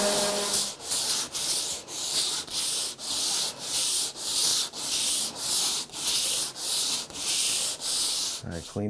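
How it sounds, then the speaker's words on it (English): Hardwood being sanded by hand with 80 grit sandpaper, a loud, steady back-and-forth rasping in regular strokes roughly every half second, close by and with no talk. "I'll sand this with 80 grit, then I'll jump it up to 120,"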